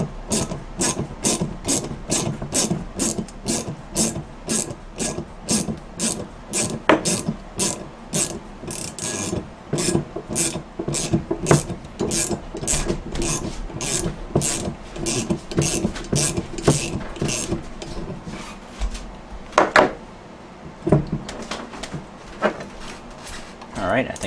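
Brake caliper bolt being loosened with a ratchet wrench on a 2007 Audi S8, a rapid run of close metallic ratchet clicks repeating steadily with brief pauses, clanks of tools and parts, and occasional talk.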